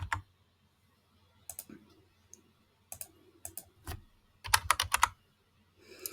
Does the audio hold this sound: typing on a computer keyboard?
yes